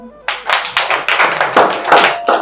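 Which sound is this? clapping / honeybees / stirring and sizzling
clapping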